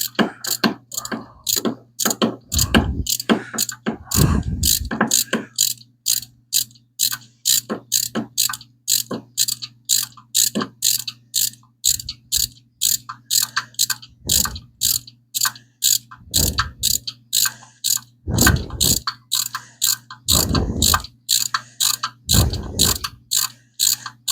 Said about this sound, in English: Okay, now I can get the ratchet on there.